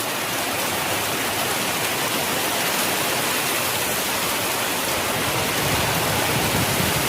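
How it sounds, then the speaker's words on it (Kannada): Dense, steady roar of heavy rain pouring down continuously, a broad hiss with no pauses or voices. "ಈಗ ನೋಡಿ ಎಷ್ಟು ಜೋರು ಮಳೆ ಬರೋದೈತಿ"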